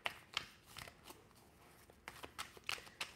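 A deck of playing cards being shuffled, giving soft riffling and flicking bursts at an irregular pace, fairly quiet and close, with no talking.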